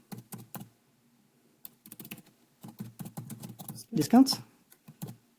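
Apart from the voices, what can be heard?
typing a chat message on a computer keyboard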